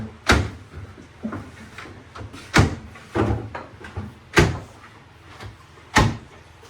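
Wooden cabinet drawers being carried and handled indoors, giving a string of six or seven loud, sharp knocks and thumps spaced unevenly, with faint shuffling between them.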